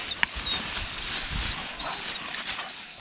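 Hunting hounds whimper faintly in the open, with soft, thin whines and a sharper high whine near the end over quiet outdoor background.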